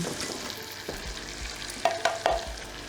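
Smoked sablefish fries in hot oil, giving a steady sizzle with a few sharp clacks of stirring near the end.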